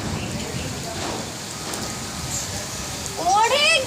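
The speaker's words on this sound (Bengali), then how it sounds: "অনেক জোরে ঝড় উঠছে" Heavy rain and strong wind from a dark storm, heard from a balcony, give a loud, constant rushing roar throughout, with a voice speaking briefly near the end.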